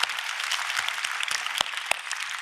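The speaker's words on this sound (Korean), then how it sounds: "하나님께 영광의 박수 올려드립니다" Brief applause from a church congregation at a Korean Thanksgiving dawn revival service, a moderate spread of clapping with a couple of sharp individual claps popping out near the end.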